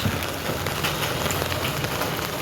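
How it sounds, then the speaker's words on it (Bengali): Heavy downpour falling on a wet street, a dense, continuous hiss of rain hitting the surface, close and loud with no voices. "এই দেখো বৃষ্টি হচ্ছে"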